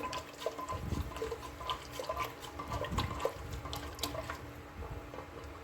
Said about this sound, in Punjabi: ਇਸ ਨੂੰ ਆਪਾਂ ਇਸ ਤਰ੍ਹਾਂ ਲੱਕੜੀ ਦੇ ਨਾਲ ਚੰਗੀ ਤਰ੍ਹਾਂ ਹਿਲਾ ਦਿੰਨੇ ਵੀ ਤਾਂ ਕਿ ਰਲ ਜਵੇ ਚੰਗੀ ਤਰ੍ਹਾਂ